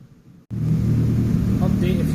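A Nissan GTI-R engine idles just over 1000 rpm with a steady, low rumble that cuts in abruptly after a moment of near quiet and holds an even pitch.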